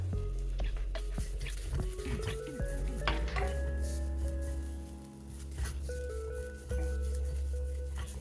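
Grated coconut roasting in a pan over a medium flame for a chicken curry, with steady scraping and stirring, faint sizzling and occasional utensil clinks against the pan, close and continuous with no talking.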